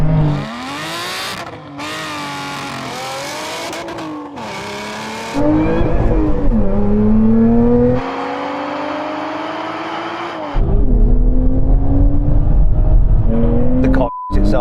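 A Porsche sports car accelerating hard in a drag race, engine roaring and rising in pitch through several gear changes, loud and close as if heard from inside, with a voice talking over it.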